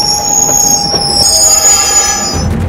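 Train pulling into Nungambakkam station, loud close metallic wheel squeal with high sustained screeching tones over a rumbling rolling roar, steady throughout.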